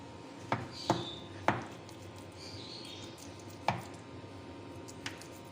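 A knife cuts slits into raw chicken being prepared for a foil steam roast, giving about six sharp, close taps at irregular intervals over a low background hum, with no talk.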